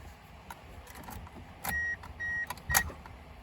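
Keys jangle and a key turns in the ignition of a Mazda Miata that sat for eight years, bringing a few short electronic tones and clicks, close and fairly quiet, with no talking.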